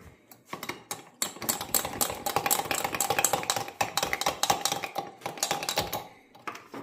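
A spoon stirs lemon butter sauce in a pan over a high flame for a snail and octopus stew, making dense, fast, close clicking and scraping against the metal that carries on steadily throughout.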